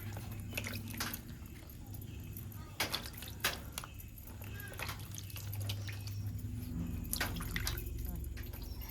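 Wild monsoon mushrooms from the Konkan countryside rinsed by hand in water, with soft drips, splashes and squishy handling sounds repeating through the clip, close by and fairly quiet, over a low steady hum.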